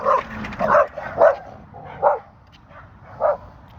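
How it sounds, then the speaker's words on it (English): Dogs bark close by in a quick series of about five sharp barks, the first few bunched together and the last ones more spaced out, with nothing else heard. "I was walking by a place that got dogs"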